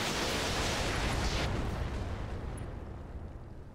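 SRM missile volley fired in the mech game Roguetech, a broad roaring burst of explosive noise that swells early then trails off into a fading rumble, no voices.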